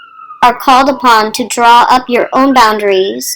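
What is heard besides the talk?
emergency vehicle siren passing outside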